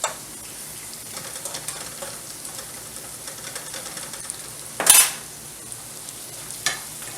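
Onions and garlic sauté in a pan on the stove while green beans simmer nearby, a steady low sizzle running throughout with a sharper hiss near the middle and a brief utensil clink later, no talking.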